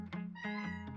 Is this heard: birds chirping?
no